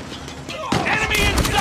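Gunfire in the mobile shooter game Call of Duty Mobile, a burst of sharp shots and thuds under game voice lines, loud and close.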